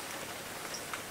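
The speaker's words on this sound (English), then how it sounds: "you can also hear the rain" Rain falls outside as a steady, soft hiss with faint scattered drops, heard from indoors for a brief moment.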